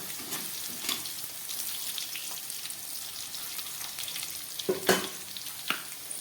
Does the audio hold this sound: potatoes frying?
yes